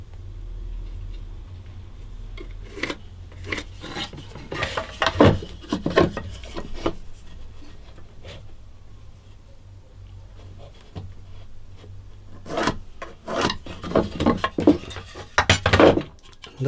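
Hand tool working a wooden tenon for a guitar neck, roughing it out: irregular scraping and rasping strokes come in bursts with gaps, close and moderately loud, with no talking.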